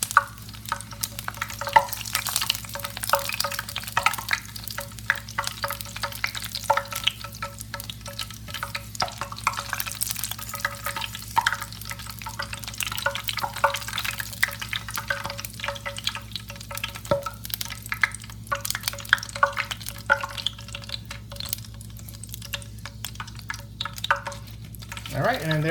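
Pork skins fry and puff in hot oil, giving a dense, continuous crackling sizzle with scattered pops that hold steady throughout, under occasional talk.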